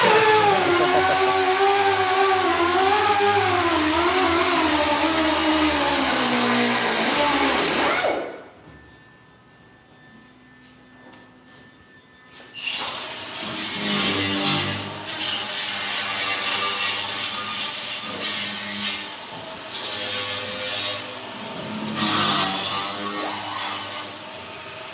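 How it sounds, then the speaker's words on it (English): An abrasive flat disc grinds the steel body of a 1934 Ford 5 Window Coupe during a chop, a loud sustained whine that cuts out partway through before heavier, scraping grinding resumes. "I'm using a benchmark abrasive flat disc."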